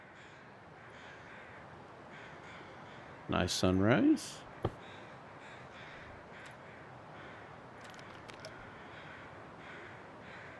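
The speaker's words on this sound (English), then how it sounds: "That's the crows." Crows cawing at sunrise in the survival video game The Long Dark, a short burst of loud harsh caws near the middle, with brief softer calls later over a quiet ambient bed and someone speaking briefly.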